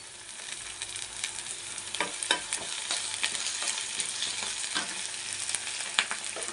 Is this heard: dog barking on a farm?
no